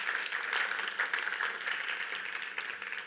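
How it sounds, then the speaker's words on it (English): Audience applause at a Devcon SEA blockchain conference stage after a talk's final question, a steady wash of many hands clapping throughout, fairly loud and close, with no speech over it. "you give some applause to Frank."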